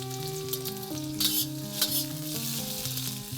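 Black peppercorns frying in a pan, with a light crackling sizzle and a couple of louder pops sitting under steady background music.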